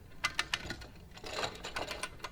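A ratchet winch pulls a tree during clearing work, giving faint, quick clicks in short bursts with an uneven rhythm, heard close with no talking.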